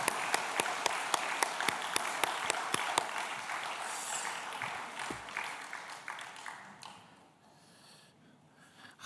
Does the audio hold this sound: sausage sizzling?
no